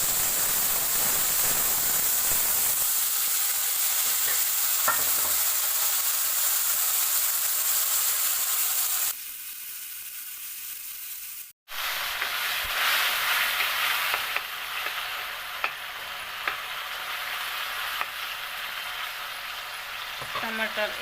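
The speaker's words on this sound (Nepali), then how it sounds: "टमाटर यतिको पाक्दैछ।" Coarsely ground tomatoes fry in a pan for raja chyau, giving a steady hiss with occasional clicks and scrapes of stirring. A brief quieter stretch falls midway before the sizzle resumes at full strength.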